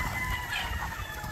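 Hens, female gamefowl kept in a range area, cluck and call amid a steady background din of other fowl, with a rooster-like crow blending in; the birds sound moderately close and continuous, with no one talking.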